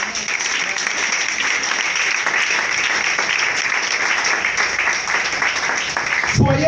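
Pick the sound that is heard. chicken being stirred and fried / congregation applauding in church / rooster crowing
congregation applauding in church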